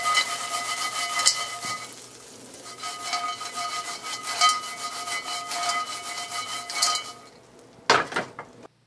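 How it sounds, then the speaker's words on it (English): Popcorn coated in melted butter is tossed in a bowl, giving repeated loud rustling, scraping swishes in a steady rhythm, close up, with no talk. "I'm going to put some melted butter on the popcorn. And just give it a toss to mix it up."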